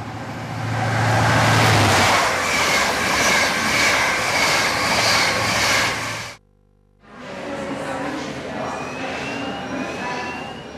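An airplane engine roars overhead as a steady, loud broadband drone that holds for about six seconds, cuts out abruptly, then resumes at a slightly lower level.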